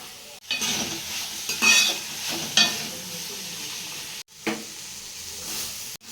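A spoon stirs beetroot chutney mixture in a pan over a steady sizzle, with a few scraping strokes and brief clinks, close and alone with no talk.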